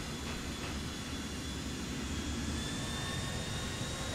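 Jet airliner engine roaring steadily during takeoff in the video game GTA IV: The Ballad of Gay Tony, a dense continuous rumble with a faint high whine, loud and constant throughout.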